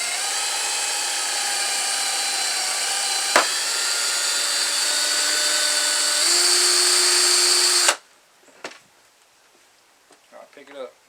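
A power drill whines steadily for several seconds while boring a mounting hole for a homemade Berkey water filter, its pitch rising slightly before cutting off, followed by faint handling clatter.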